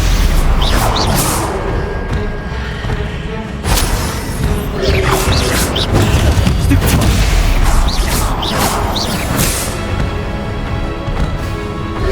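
Spell casts and combat effects from Hogwarts Legacy, a dense run of whooshes, crashes and impacts over steady game ambience and music, with a few sharp bursts standing out.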